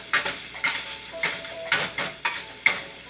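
A potato masher presses and breaks up Italian sausage frying in a pan, giving about six regular scraping thumps over a steady sizzle, close and clear with no talking.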